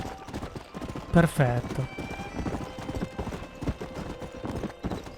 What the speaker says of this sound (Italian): Un americano da sella, un cavallo raro e agile.